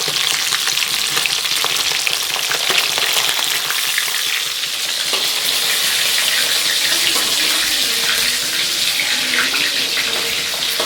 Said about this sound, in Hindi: और ये मछली हो गया है फ्राई यहाँ पे।